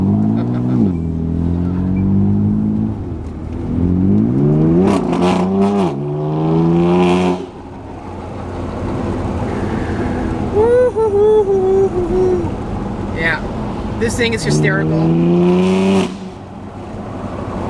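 Loud exhaust from a BMW M3 F81 Touring wagon with an aftermarket exhaust build while driving, with repeated rising revs and gear-change drops under excited talk in the cabin.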